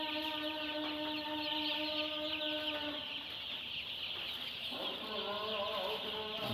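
Broiler chickens in a poultry shed cluck and call in overlapping, sustained tones, a dense, continuous flock chorus at close range with no one speaking.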